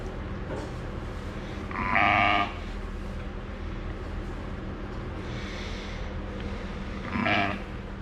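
Young lamb bleating during tube feeding of milk after lambing, two short close bleats a few seconds apart over a steady low background hum.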